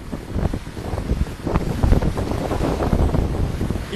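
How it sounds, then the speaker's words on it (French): Gusting wind and breaking waves at the stern of a sailing boat on an ocean passage, with a freshening breeze and squalls about, buffeting wind roaring across the microphone over a rushing, surging wash of water, loud and close. "le vent a fraîchi un peu"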